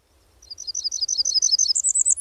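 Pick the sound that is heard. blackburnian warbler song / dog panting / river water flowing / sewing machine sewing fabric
blackburnian warbler song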